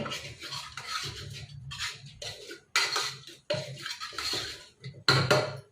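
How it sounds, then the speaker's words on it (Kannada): Cooked lentils (toor dal) being mashed in a metal pot for wedding-style drumstick sambar, with repeated scraping and clinking strokes of a utensil against the pot in short irregular bursts, close and fairly loud, no talking. "ಈ ಬೇಳೆನ ಸ್ವಲ್ಪ ಸ್ಮ್ಯಾಶ್ ಮಾಡ್ಕೊಳ್ಳೋಣ ಅಷ್ಟೇ"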